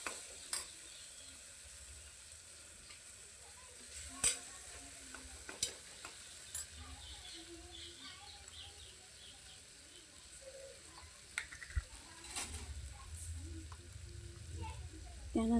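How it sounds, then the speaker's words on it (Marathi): Tomatoes fry and are stirred in a pan for a mixed sprouted-bean usal curry. A faint, steady sizzle runs throughout, broken by scattered scrapes and taps of the spoon, with no talking. "छान परतून झाल्यानंतर यामध्ये आपण टोमॅटो टाकून परतून घेणार आहोत."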